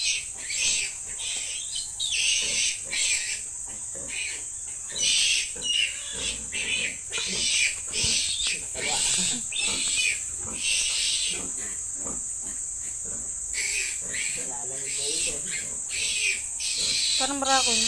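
A pig grunts repeatedly in a pen, close and moderately loud, the irregular grunts mixed with insect and bird sounds in the background.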